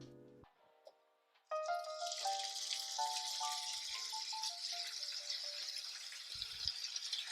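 A brief clatter, then a loud, continuous sizzle as chicken hits a preheated pan, crackling and hissing steadily up close.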